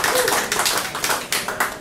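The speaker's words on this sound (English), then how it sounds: "Applause." Audience applause in a pub during a live comedy show, with many hands clapping steadily and loudly under a busy room mixed with crowd noise.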